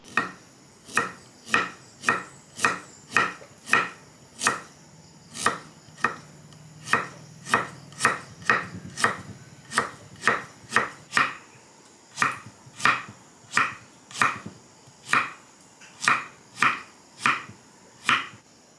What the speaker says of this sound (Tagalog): hihiwain lang natin ng maninipis itong ating radish.